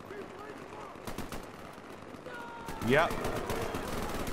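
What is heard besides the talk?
gunfire shooting at the Terminator, from video game Garry's Mod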